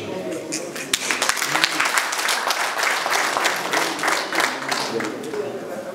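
Wedding guests at a Rwandan introduction and dowry ceremony applauding, a steady patter of clapping from a gathered crowd at moderate distance, with a voice speaking over it.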